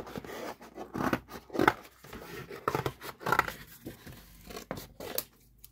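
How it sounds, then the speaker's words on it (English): Scissors snipping through paper as a small charm or embellishment is fussy cut for a grunge garden-themed journal, giving a series of close, crisp cuts and rustling paper in irregular bursts with no talk. "I will always fussy cut out the little charm or a little embellishment"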